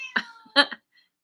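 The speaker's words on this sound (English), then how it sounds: "Kitty agrees." A house cat gives two short, close meows in a quick pair, loud and clear against an otherwise quiet room.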